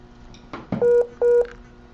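Two clear telephone dialing tones, each a steady beep of about a fifth of a second with a short gap between them, sound close and loud after a few soft clicks as a phone is handled.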